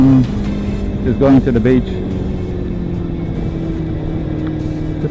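A Kawasaki vehicle driving on a sunny day on the way to the beach, its engine a steady low hum throughout with a brief swell, while someone talks over it at the start.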